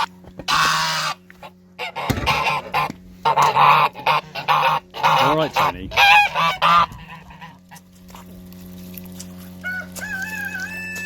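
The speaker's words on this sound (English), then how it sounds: "Greedy geese." Several geese honk loudly and repeatedly nearby, with clucking fowl mixed in; a person speaks briefly between the calls.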